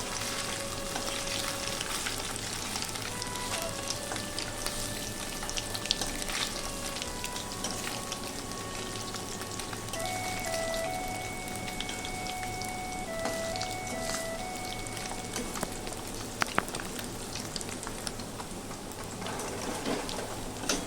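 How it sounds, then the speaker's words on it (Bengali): Paneer pieces fry gently in oil in a pan, giving a soft, continuous sizzle with fine crackles like light rain, steady and fairly quiet throughout, with occasional faint clinks as pieces are turned. "একটা সাইড আমার হালকাভাবে ভাজা হয়ে গেছে, এরপর আমি খুব সাবধানে আস্তে আস্তে করে উল্টে দিচ্ছি সব পনিরগুলো একটা একটা করে।"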